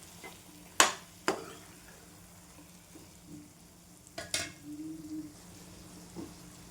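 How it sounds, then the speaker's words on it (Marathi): A spicy masala for stuffed ridge gourd bhaji being sautéed in a pan over a medium gas flame, with a few sharp spoon scrapes and clinks over a faint, low sizzle. "मी आहे ना मीडियम गॅसवरच आहे ना छान परतून घेते मसाला"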